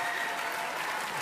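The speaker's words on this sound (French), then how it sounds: "je crois qu'on peut les applaudir" Studio audience applause on a French TV talent show, a dense, continuous burst of clapping that stays level and fairly loud for just over a second, with no voices.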